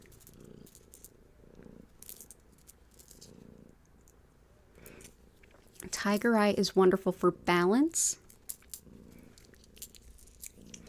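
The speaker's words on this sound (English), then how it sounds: "Yeah, you brought your purrs. Thank you. Thank you for those purrs." Soft, steady cat purring rumbles low in the background, pulsing in slow waves, while a person speaks over it for a few seconds midway.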